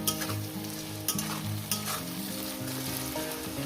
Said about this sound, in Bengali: দিয়ে পেঁয়াজটাকে সুন্দর করে আমি ভেজে নেব